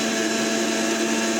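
A kitchen mixer grinder whirs steadily, blending musk melon pieces with poppy seeds and salt into a smooth paste; the motor hum is loud, close and unbroken throughout, with no voices over it.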